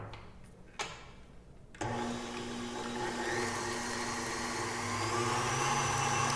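An electric mixer whips cream into cake batter for a drip cake, starting with a few clicks and then a steady close motor whir that runs to the end.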